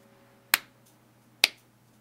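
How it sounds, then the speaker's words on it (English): Two sharp, crisp claps spaced almost a second apart, a slow deliberate rhythm over a quiet background hum. "Slow clap."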